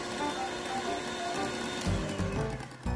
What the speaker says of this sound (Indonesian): Kocok kuning telur dengan mixer,